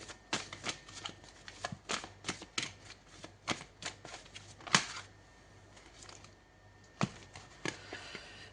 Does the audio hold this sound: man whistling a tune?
no